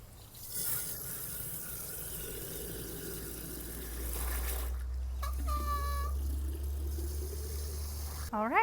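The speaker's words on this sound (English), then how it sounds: "And now I'll fill it with water." Water runs steadily into a terracotta watering pot set in a garden bed, a continuous filling rush with a few brief gurgles and pitch-rising trickles near the end, fairly close.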